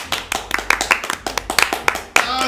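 Applause sound effect from the Doki Doki Literature Club video game, a burst of several pairs of hands clapping in quick, uneven slaps, close and fairly loud, with a voice speaking faintly underneath.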